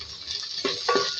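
Vegetables frying in a pan, a short stretch of sizzling with a couple of stirring scrapes of a utensil against the pan, close and alone.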